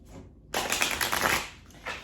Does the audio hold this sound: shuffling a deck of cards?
yes